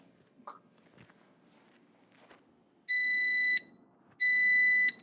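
A tumbler and mug heat press timer signals the end of its cycle with two loud, sustained electronic beeps, each lasting just under a second, sounding over a quiet room background.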